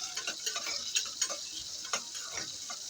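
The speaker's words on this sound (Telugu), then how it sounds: "తర్వాత ఆనియన్స్ వేసి ఓవర్గా ఫ్రై చేయనవసరం లేదు, కొంచెం ఫ్రై అయితే చాలు" Onions sizzle gently in a pan with chillies and curry leaves as the tempering for a ridge gourd and lentil dal, a soft steady crackle broken by light ticking stirs of a spoon.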